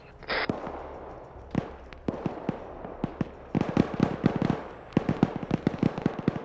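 Scattered gunshots pop and crack in a military video game's background, distant and irregular, bunching into denser bursts of overlapping shots toward the end.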